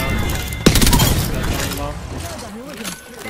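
Bursts of video game gunfire with a sharp crack leading into rapid fusillade, loud and close, fading into game noise with faint tones as a voice talks alongside.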